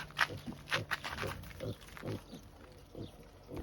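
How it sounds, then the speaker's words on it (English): A pig on an off-grid homestead making a string of low grunts and snorts in uneven bursts, fairly close and quiet, with no talk. "What a silly pig."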